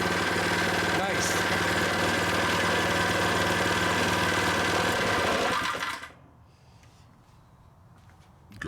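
A Predator 79cc small engine runs loud and steady at full throttle close by, then cuts off abruptly, leaving a quiet hum.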